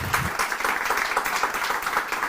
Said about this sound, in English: donc on applaudit Shaunelle et c'est à son tour.